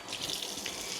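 Water runs steadily from a kitchen faucet into a sink, a continuous close hiss and splash with no pauses and no voices.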